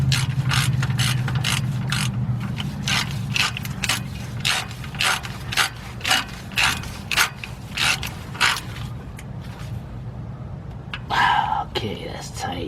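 A ratchet tightens the starter bolts on a 2005 Chevy Express G2500 van, making a long run of close, regular clicking strokes that slows near the end, with quiet talking underneath.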